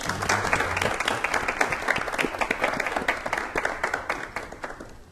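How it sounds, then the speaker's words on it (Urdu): Audience applause in honour of the nation's scientists at an official event, a dense burst of many hands clapping at steady loudness that slowly thins out toward the end. "میں چاہوں گا ہمارے دیش کے ہونہار ویگیانکوں کے لیے ایک بار زوردار تالیاں ہو جائیں"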